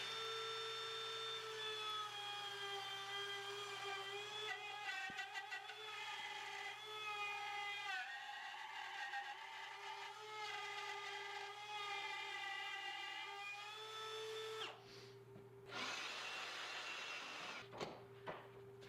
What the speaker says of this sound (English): clamp my template down and route this thing away